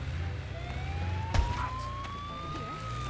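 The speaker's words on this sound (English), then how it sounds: "the ambulance is here." A steady wailing ambulance siren in the video game Goat Simulator 3, rising slowly in pitch over a continuous engine rumble, with a single thud partway through.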